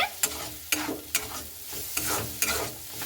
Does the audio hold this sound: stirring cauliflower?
yes